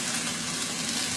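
Bok choy and green onions sizzling in a hot pan as they are stirred, a steady dense hiss of frying that stays loud and even throughout.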